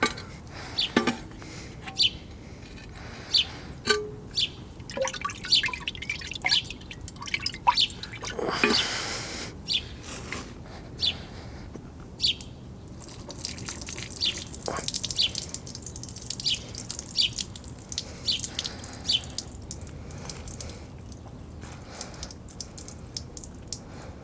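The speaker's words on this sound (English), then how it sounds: "you can actually hear the coolant." Coolant dripping from a Honda K24A2 engine with a melted Hondata intake gasket, a series of irregular small drips and taps close by, with faint rustling and soft background noise between them.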